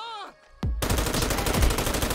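Gunfire in the video game GTA 5 LSPDFR erupts after a brief lull and a single sharp crack, becoming a loud, rapid stream of automatic shots that runs to the end.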